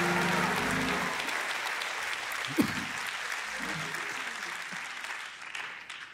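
A room of listeners at a faith gathering claps together in a steady, dense wash that fills the space, fading slightly toward the end, with one sharp knock near the middle and faint murmuring underneath.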